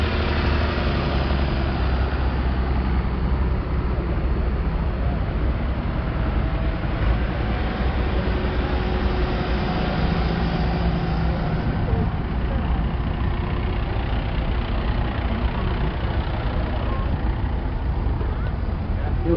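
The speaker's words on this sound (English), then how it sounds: "David Brown coming in, Leyland Mini Tractor, Matthew Harris, American built machine." Vintage tractor engines, including a David Brown and a Leyland Mini Tractor, chug and idle as they arrive at a steam and vintage rally, a continuous loud, low rumble heard close up.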